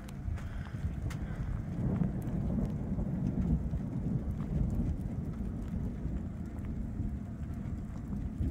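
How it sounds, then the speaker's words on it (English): Light rain falls steadily on a desert campsite in Quartzsite, Arizona, a soft continuous patter with wind noise rumbling against the microphone and no talking. "we got a little bit of rain going on"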